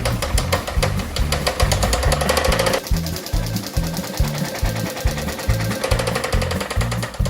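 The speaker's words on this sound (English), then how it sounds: "Customer states that her car sounds like a prize wheel." Car making a rapid rhythmic clicking like a spinning prize wheel, loud repetitive ticking over a pulsing engine throb that continues steadily with a brief shift midway.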